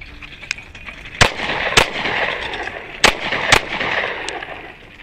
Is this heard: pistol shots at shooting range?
yes